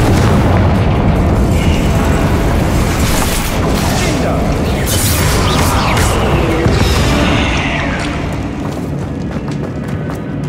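Confringo explosion spell cast in the video game Hogwarts Legacy, with loud booming blasts and crackling bursts rolling on continuously for several seconds, under layered game effects and some voice.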